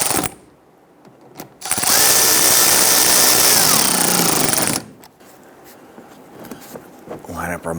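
A power drill snugs a fender liner bolt on a 2011–2019 Ford Explorer during front bumper cover work, giving a loud, steady whirring burst of about three seconds between quieter stretches of shop noise.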